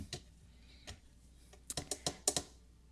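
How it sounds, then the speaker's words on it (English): A die cutting machine is handled for a papercraft project. Faint, close plastic clicks and clacks come singly at first, then cluster into a quick, sharper run of taps, all at a low level in a quiet room. "So that means we're getting out our die cutting machine."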